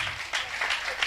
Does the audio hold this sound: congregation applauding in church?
yes